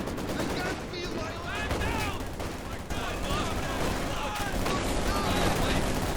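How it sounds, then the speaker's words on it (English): In Company of Heroes 2, a Molotov and an incendiary grenade are traded amid battle, with crackling bursts and gunfire-like pops layered in a dense, continuous wash of combat noise under a commentator's voice. "Molotov and incendiary grenades traded here."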